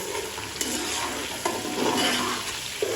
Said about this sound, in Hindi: टमाटरों को अच्छी तरह से इसमें भूनेंगे, मिक्स करेंगे